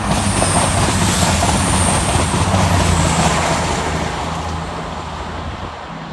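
An East Midlands Railway train rushes past on the fast line close by, a loud, dense roar of wheels and rails that gradually fades slightly toward the end.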